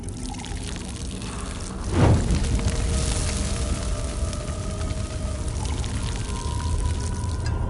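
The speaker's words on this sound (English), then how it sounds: "Pour it on the braziers." Liquid is poured onto braziers in The Elder Scrolls Online, heard as a steady splashing pour that swells into a brief louder gush, then settles into a continuous trickle over low ambient game sound.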